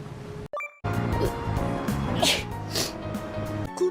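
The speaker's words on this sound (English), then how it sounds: "Achoo!" A single sharp sneeze bursts out suddenly, loud and close, followed by brief background game music and sound effects.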